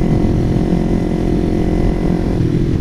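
Loud, steady motorcycle engine drone held in third gear on a Ninja 300 or YZF-R15 sport bike, a constant, continuous hum with no talk over it.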